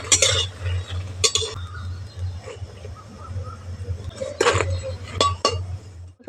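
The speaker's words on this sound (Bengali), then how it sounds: "ভাজা হয়ে গেছে তুলে নিচ্ছি" Fried vegetable fritters for chapor ghonto lifted from a pan with a utensil, giving sharp metallic clinks and scrapes in a few bursts over a low steady hum.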